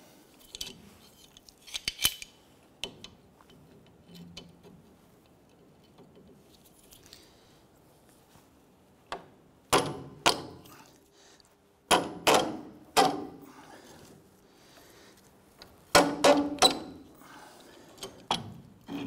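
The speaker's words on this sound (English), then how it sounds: "We're just gonna work this back and forth to try and get that rust broken free." A rusted tie rod adjuster sleeve on a 1993-1997 Ford Ranger's front passenger side is worked back and forth, giving sharp metallic clicks and scraping creaks in irregular clusters, close up, with quiet pauses between bursts.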